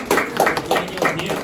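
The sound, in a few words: audience clapping hands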